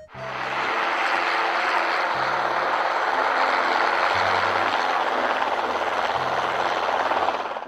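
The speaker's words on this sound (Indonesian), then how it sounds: "Wow, lihat teman-teman, di sini ada helikopter." A toy helicopter whirs steadily and loudly at close range, a dense mechanical buzz with a repeating low pulsing pattern running throughout.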